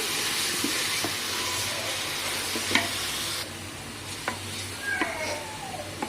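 Boiled meat stir-fried in a pan with biryani spices for mint biryani, a steady soft sizzle with occasional scraping clicks of a spoon against the pan, faint and close.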